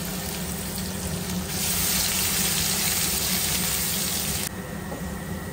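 Garlic hits hot oil in a pan and sizzles loudly and steadily, a dense continuous frying hiss that swells for a few seconds and then eases slightly, with no talking.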